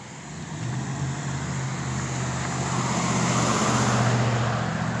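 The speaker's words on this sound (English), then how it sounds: "I don't understand why there's all these cars up here" Steady traffic rolls past on a residential street that should be quiet, a continuous broadband rumble of several cars that swells slightly louder over a few seconds.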